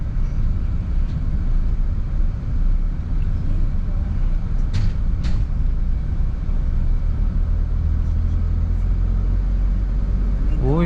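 A 2024 Toyota Wigo G with CVT climbs a parking ramp at low revs, its engine a steady loud droning rumble heard from inside the cabin, with a couple of brief sharp squeaks midway.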